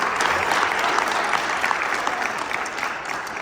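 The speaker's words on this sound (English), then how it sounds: "you should give her a huge round of applause" Steady applause from a crowd, dense and continuous clapping filling the whole stretch at an even, fairly loud level.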